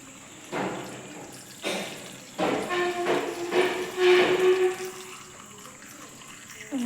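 Cooled water is poured into a pickle jar in several bursts, a close gurgling splash that rises and falls, with pauses between pours.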